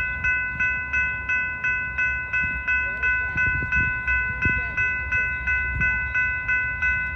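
An Amtrak P42DC locomotive passes through Rosenberg, Texas, with heavy rail rumble and scattered clanks beneath a loud, evenly pulsing ringing tone, like a crossing bell, that repeats steadily throughout.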